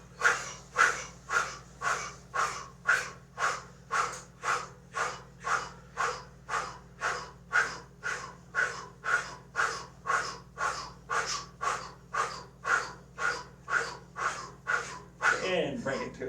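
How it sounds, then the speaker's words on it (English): Rapid, forceful bellows breathing during seated qi gong, about thirty sharp rhythmic breaths at an even quick pace, close and clear, stopping near the end as a voice begins. "We'll do 20 or 30 bellows breath."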